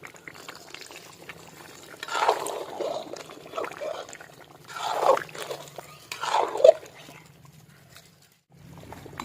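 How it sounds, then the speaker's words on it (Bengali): A little water goes into chicken kosha cooking with potatoes in a pan, three separate bursts of pouring and hissing bubbling over a low hum, with quiet pauses between. "অল্প একটু জল দিয়ে দেবো"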